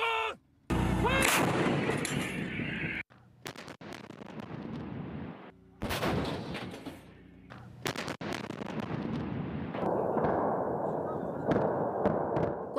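A new self-propelled artillery gun fires during a military drill, loud booming blasts bursting out several times across the span with rumbling tails between, one shouted firing command heard amid the shots.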